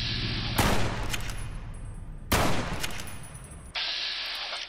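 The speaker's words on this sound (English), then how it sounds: "I'm just basically doing pot shots at this point." Gunfire in Fallout: New Vegas, with two sharp, loud shots spaced well apart, each followed by a long decaying echo, set over a steady hissing game ambience.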